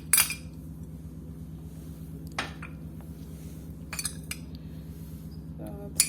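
Potato sandwich filling being mixed in a bowl with a spoon, giving a few sparse clinks and scrapes of metal on the dish against a low steady background hum.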